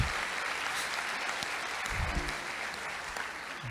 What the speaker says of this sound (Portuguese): Agora aplaude a Deus de verdade.